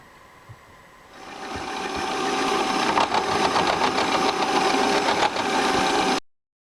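A machine cuts a metal workpiece with a loud, steady grinding whine that builds and holds for several seconds, then stops abruptly, heard close with no voices.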